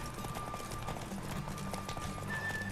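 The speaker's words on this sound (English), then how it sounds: "Don't spare the horse." Horse hooves galloping in The Witcher 3, a steady dense clip-clop under continuous game music and ambience, loud and close throughout.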